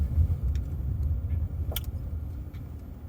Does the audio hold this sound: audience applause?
no